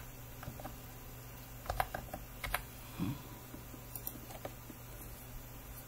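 Someone types a code on a computer keyboard in a few soft, scattered keystrokes and short clusters of taps, close but quiet, over faint background hum.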